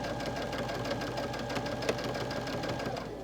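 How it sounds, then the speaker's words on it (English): A sewing machine runs steadily as it stitches down a quilt-as-you-go seam with sashing at a stitch length of 3, a continuous close mechanical whir with a fast, even rhythm. "I'm going to stitch down."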